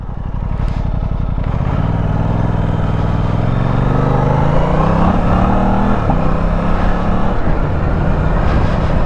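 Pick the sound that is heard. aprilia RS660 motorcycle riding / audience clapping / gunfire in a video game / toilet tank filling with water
aprilia RS660 motorcycle riding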